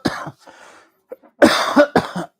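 Harsh bursts of human coughing, a cluster at the start and a louder run of several coughs near the end, close to the microphone with quiet gaps between and no talking.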